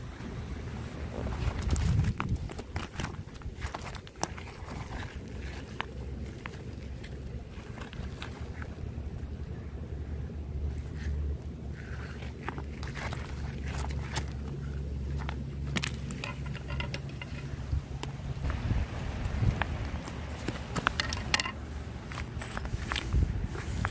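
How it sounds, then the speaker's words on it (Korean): Footsteps crunching over a stony riverbed beside a flowing stream, irregular stone clatter over a steady watery wash and light wind, fairly quiet and close, no talk. "이렇게 돌밭을 이렇게 혼자 걸으면 돌소리가 나고 시냇물 소리 나고 새소리 나고"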